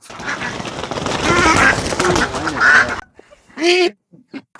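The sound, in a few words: domestic ducks quacking while being caught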